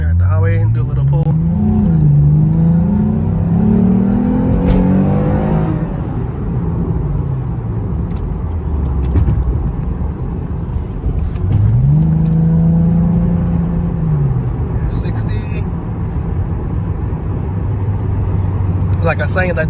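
A Lexus IS350 with an Invidia mid pipe drones steadily on the highway and rises in pitch as it accelerates, with someone talking over the exhaust note throughout.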